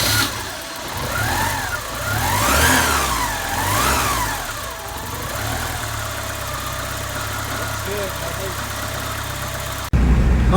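A 1986 Porsche 944 engine, freshly fitted with cleaned and flow-matched injectors, cranks and fires, revving up and down several times before settling into a steady idle, close and clear.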